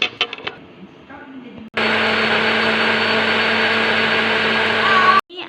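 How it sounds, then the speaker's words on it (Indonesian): A kitchen blender whirs loudly and steadily for about three and a half seconds as it purées garlic, chili and dried shrimp for Palembang pempek dipping sauce, starting abruptly after some clattering handling sounds and stopping sharply. "Ini kita blender jadi satu."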